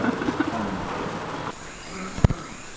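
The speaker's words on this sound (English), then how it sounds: "the brothers showed us the tree where all the birds search shelter at night" Birds sheltering in a tree at night in Colombia give a few soft, low coos and calls early on, then the scene falls quieter apart from one sharp knock near the end.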